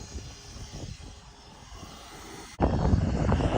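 A Jiusi PT14R RC car running on a 3S LiPo goes to full throttle, its quiet electric hum jumping suddenly into a loud, steady, high-pitched motor whine.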